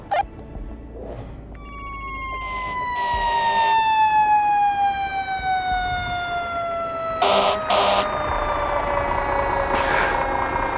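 Emergency vehicle sirens wail, rising in loudness as they approach, with sliding tones and a few sharp blasts layered on top.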